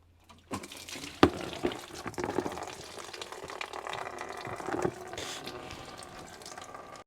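Coolant gushes from a 4x4 radiator that has no drain plug, a steady splashing pour that runs close by and alone for several seconds after a sharp knock at the start.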